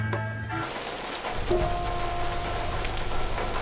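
Steady rain from a scene in the 2007 Tarantino film Death Proof, set in a parking lot on a rainy afternoon; a broad wash of falling rain and surface patter holds at even loudness, with a faint tonal hum and a soft knock near the start.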